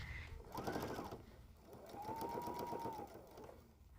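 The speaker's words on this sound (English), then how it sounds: "I'm gonna lay out my muslin on the back, and I will stitch 1/4 inch around each side" A sewing machine stitches muslin onto the back of a pillow in two whirring runs, each a steady mechanical hum of a second or more, heard up close and fairly quietly, with no talking.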